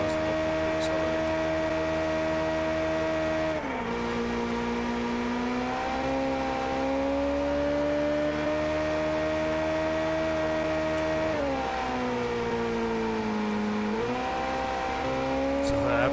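A video-game car engine held in seventh gear drones at high speed, a sustained steady tone that dips briefly a few times, loud and continuous with faint speech beneath.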